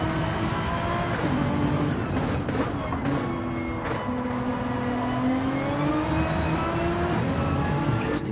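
Race cars in a GTE-class sim racing league, a Nissan chasing a Porsche, engines droning loud and steady with rising and falling pitch through gear shifts and a few brief revs, with no talking.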